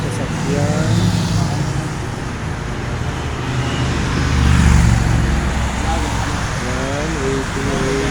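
Steady road traffic at an Italian roadside bus stop, cars and heavier vehicles passing continuously at moderate distance with a swell around the middle, and people talking faintly over it.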